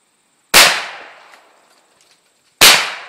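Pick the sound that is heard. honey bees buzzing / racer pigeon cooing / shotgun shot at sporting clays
shotgun shot at sporting clays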